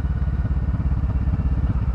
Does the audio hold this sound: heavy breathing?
no